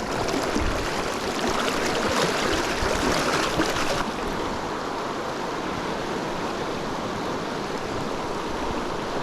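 A fast-flowing river rushes in a constant broadband roar during fly fishing in Washington State, loud and close, slightly brighter in the first few seconds and then steady.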